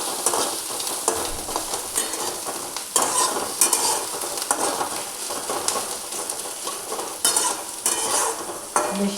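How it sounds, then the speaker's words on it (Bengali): Onion, ginger and garlic frying lightly in a pan, a dense, close sizzle punctuated by frequent scraping stirs and clatter. "আর এখানে আমি পেঁয়াজ, আদা, রসুন এগুলো একটু হালকা করে ভেজে নিচ্ছি"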